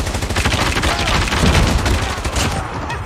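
Dense, loud automatic gunfire in the Call of Duty video game keeps rattling without a break, with overlapping shots and impacts.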